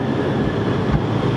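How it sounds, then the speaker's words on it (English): Boston Green Line Type 9 light rail vehicle pulls in on the D branch, a loud, steady low rumble and hum of the train filling the space, close by and without talk. "the next Green Line train to arrive will be a brand new Type 9 LRV"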